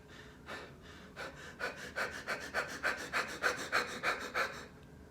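Rapid, rhythmic panting breaths imitated by a voice, mimicking anxious hyperventilation through the chest: about a dozen quick, airy in-out gasps that speed up and grow louder, close and alone with no talk.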